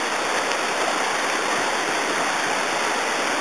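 A river in Oregon rushes loudly and steadily, a dense unbroken roar of fast water close by with no pauses and no voices.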